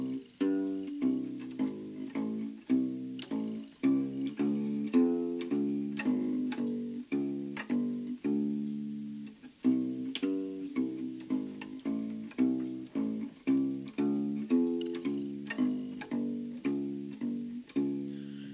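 A bass guitar plays a bouncing, rhythmic bass line alone, notes plucked steadily one after another with a short pause midway.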